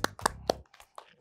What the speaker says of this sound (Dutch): Ik geef mezelf ook een applaus.